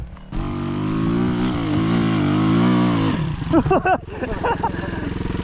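A Rottor Bronx 300 Chinese enduro motorcycle engine climbs uphill, droning steadily then rising in pitch under load before breaking into choppy revving bursts, fairly close, with voices talking over it.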